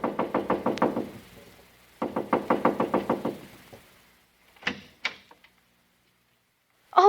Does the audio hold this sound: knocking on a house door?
yes